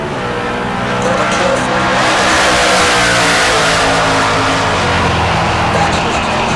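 A-body Mopar drag race car launching and accelerating hard down the left lane at Heartland Park Topeka, a loud sustained engine roar that builds and holds throughout, with commentary over it.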